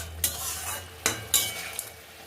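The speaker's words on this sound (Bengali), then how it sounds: "মশলাটা ভালো করে ভেজে নিচ্ছি দেখুন" Spices frying in oil in a pan for a home paneer curry, a soft continuous sizzle broken by three or four sharp scraping stirs of a spoon, no talk.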